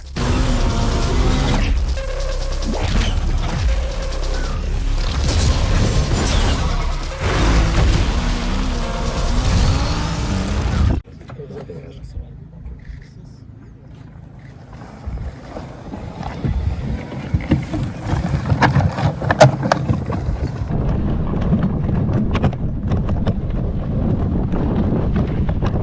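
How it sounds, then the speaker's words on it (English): A Can-Am Outlander Electric ATV with an 8.9 kW Rotax electric drive rolls along outdoors, giving a low mechanical whir and rattle under heavy wind buffeting on the microphone after a loud opening stretch. "this is the very first mass-produced production electric ATV, and we're going to try it out now"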